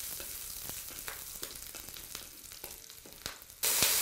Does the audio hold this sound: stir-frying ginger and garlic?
yes